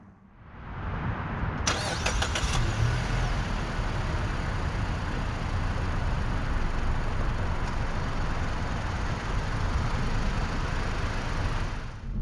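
A 2022 Mazda 3 Turbo AWD cranks briefly and fires up, then its engine runs on steadily at a close, even drone without voices.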